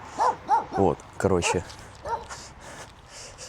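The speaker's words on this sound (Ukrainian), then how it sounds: "Оця собака йобана." A dog behind a fence barks several times in a row, sharp yelps close by, then someone speaks over fainter barking.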